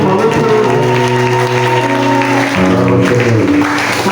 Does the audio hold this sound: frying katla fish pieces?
no